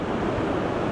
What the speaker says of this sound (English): this, my friends, is the Oregon coast